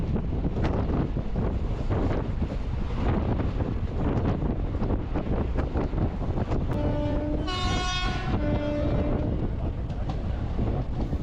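An Indian express train from Dindigul to Palakkad rumbles steadily along the tracks with rushing wind noise, and a horn sounds briefly partway through.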